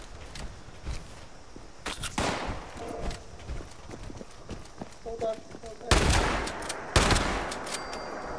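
Gunfire rings out in the video game Fallout 76 as several sharp shots and short bursts arrive over a few seconds, loudest near the end, with someone talking in between.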